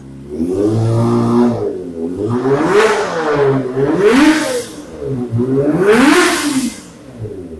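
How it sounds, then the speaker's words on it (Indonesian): A one-month-old 2024 Kawasaki ZX25R motorcycle, its engine warm, is revved up hard and let drop several times in rising and falling swells, loud and close with no talking. "sekarang saya gas sedikit ya. Mumpung panas."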